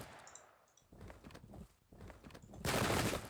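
Musket volley fire in the Pike and Shot strategy game, heard as scattered crackling shots followed by a dense, loud burst of massed gunfire near the end.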